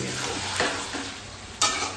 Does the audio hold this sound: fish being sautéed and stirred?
yes